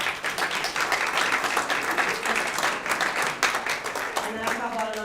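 An audience at a student award presentation claps steadily throughout, a dense crowd applause that stays at an even level from start to finish.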